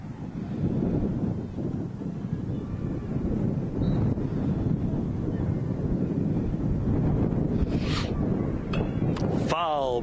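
Wind buffets a microphone in continuous low rumbling gusts at a cold baseball field, with faint voices and brief higher sounds near the end.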